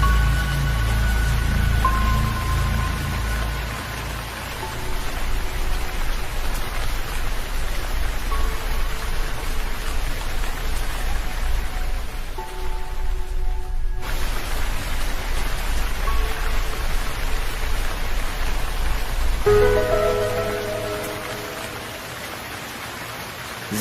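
Steady rain falls for the whole stretch as a dense, even hiss with no voices, briefly dipping and shifting in tone partway through before carrying on.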